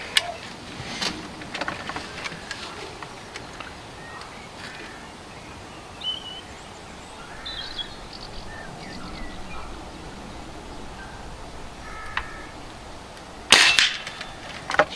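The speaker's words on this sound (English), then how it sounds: "we're going to go for the group of five shots. On the centre target." Remington Warhawk airgun fired at a centre target at 30 m outdoors, with a single sharp crack near the end standing out above quiet background and faint birdsong.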